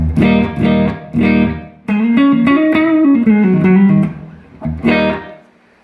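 A dry electric guitar with no effects, into a Mesa Boogie amp, plays strummed chords and then a short melodic run, sustained notes ringing with clear attacks, fairly loud, with no voice.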